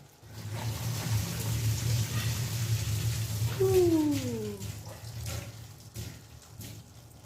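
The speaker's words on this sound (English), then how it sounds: "Drain out as much of the water as you can" Pasta cooking water poured off through a strainer in a home kitchen, a steady close rushing splash that runs throughout, with a brief voiced exclamation partway through.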